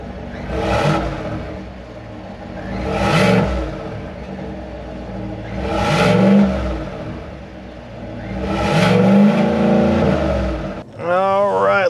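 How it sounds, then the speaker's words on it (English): The gas engine of a 2024 Chevy Silverado ZR2 Bison pickup revs four times in even swells, each rising and falling, heard close and loud with brief idle between, followed by a short burst of another noise at the end. "this gas engine probably sounds a bit better than the 6-liter Duramax"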